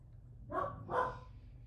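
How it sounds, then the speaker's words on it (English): Two quick barks from house dogs barking at neighbouring dogs, heard a little distant indoors over a low background hum. "now they're barking at the neighbor dogs"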